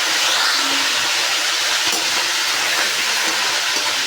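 Meat sizzles in hot ghee, a steady loud broadband crackling hiss close by that runs without pause.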